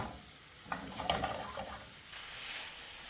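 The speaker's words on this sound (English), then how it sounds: "over a medium heat, I'm going to stir fry this now for about 8 to 10 minutes until it just starts to turn brown" Beef bowl ingredients, including onion, stir fried in a pan over medium heat, giving a soft, steady sizzle with light scraping of stirring, faint and close with no talking.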